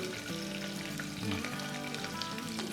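Two small onions frying in a pan for hotel-style methi pulao, a steady close sizzle with bright crackle running throughout, while some low tonal background sound hums underneath.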